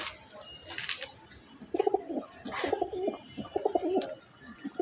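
Budapest racing pigeon cooing, several soft throaty coos in short repeated phrases, close by, with a few faint chirps and a voice briefly in the background.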